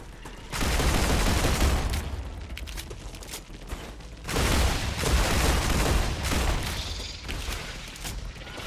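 Gunfire in the Star Rupture survival automation game as enemies shoot back, loud dense bursts of rapid shots and booms in two long waves with short lulls between, with no speech.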